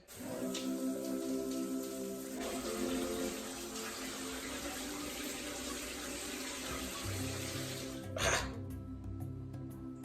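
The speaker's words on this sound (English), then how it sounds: "now my water is hot. So yeah, I'm gonna pour it here and then bath." Hot water pours steadily into a bath basin, a continuous close splashing stream under a constant hum, with a brief louder splash near the end.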